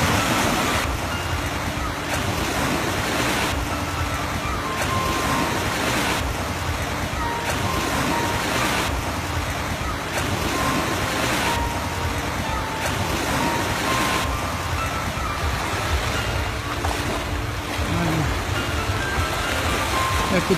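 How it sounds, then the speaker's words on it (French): Ocean waves wash steadily on a beach, a continuous broad roar of surf that stays loud throughout, with no clear breaks. "vous avez une belle plage, fantastique"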